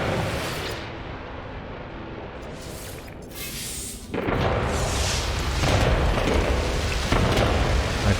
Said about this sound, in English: We do need to decide on a building upgrade, so got more fireworks happening there.